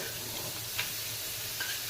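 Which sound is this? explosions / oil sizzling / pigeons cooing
oil sizzling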